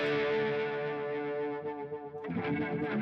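An electric guitar runs through spacey chorus, delay and distortion effects on a Line 6 Helix looper. It makes a washy, sustained swell of layered tones that shimmers and then flutters, loud and close, with no voices.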